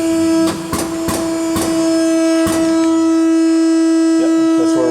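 An Extrude Hone 77B abrasive flow deburring and honing machine runs a cycle, giving off a steady, loud tonal whine with a sustained hum and a series of sharp mechanical clunks and knocks over it.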